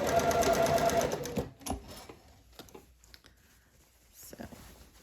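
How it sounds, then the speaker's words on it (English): A sewing machine back stitches a seam on a rainbow seersucker dress, a quick loud run of rapid stitching for just over a second, then faint clicks and handling noises. "Now back stitch there and then finish that off."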